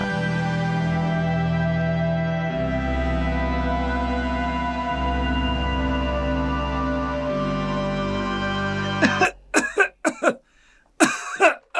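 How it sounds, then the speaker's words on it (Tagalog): Several sharp, hoarse coughs from a sick young man burst out in quick succession near the end, following a long stretch of sustained droning music. "Halos hindi na rin siya makahinga sa tuwing inuubo siya."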